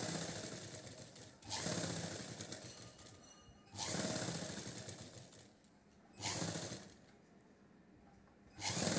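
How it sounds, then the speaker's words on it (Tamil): Sewing machine stitching the neck piece onto a chudidar umbrella top, running in three bursts with short quiet gaps between them, fairly close and steady, with no talking. "முன்பக்கம் எப்படி கழுத்து பீஸ் தைச்சோமோ அதே போல் தான் தைக்க போகிறோம்."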